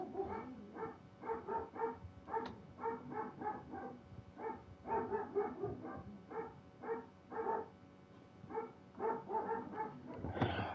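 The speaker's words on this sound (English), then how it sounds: "Noisy dogs." Several dogs bark repeatedly in quick, irregular bursts in the video game Horizon Forbidden West, moderately distant and continuous throughout, with a few yips mixed in.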